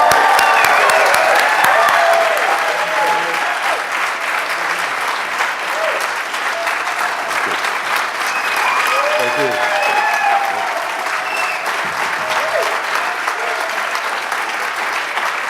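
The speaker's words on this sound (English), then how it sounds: "Let's give him an awesome round of applause." A lecture audience at a Green Party event in Markham–Stouffville gives sustained applause, dense steady clapping filling the room for the whole stretch, with scattered voices mixed in.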